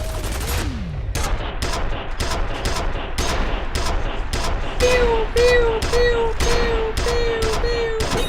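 Rapid automatic gunfire from gun turrets in the shooter game F.E.A.R., a dense stream of sharp bursts repeating roughly every third of a second, loud and close, with tonal whines and effects threaded through the volley.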